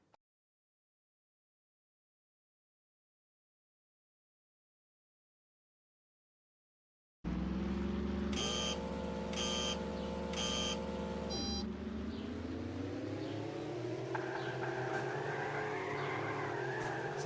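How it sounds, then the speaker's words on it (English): An SUV drifting in the arcade racer Drift Racing Madness: a loud, steady engine drone with skidding tire noise that starts abruptly after several seconds of silence, with short beeping tones partway through and the engine pitch rising toward the end. "So the SUV with his extra mass seems to hold drifts a little longer, although man is it slow off the line"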